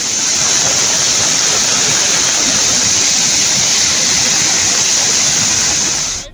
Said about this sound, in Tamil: பொள்ளாச்சி வால்பாறை சாலையில் உள்ள குரங்கு அருவியில் வெள்ளப்பெருக்கு ஏற்பட்டது